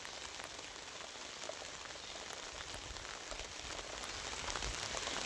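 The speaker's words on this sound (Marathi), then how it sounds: "ऊन आहे आणि उन्हामध्ये पाऊस पडायला चालू आहे." Steady rain falling in sunshine over a cucumber field, pattering on a torn plastic sheet overhead with scattered drips, continuous and fairly close, growing slightly louder toward the end.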